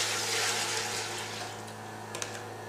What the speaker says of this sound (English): So we'll start with water in our pot.